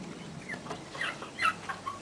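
Young turkey chicks on a family farm give soft, scattered clucks and peeps, faint and close, with short calls spread across a quiet background.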